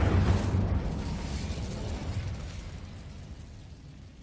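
A fiery burst from an Incendio fire spell in a Harry Potter video game erupts loudly and close, then trails off into a long, rumbling crackle that slowly fades over several seconds.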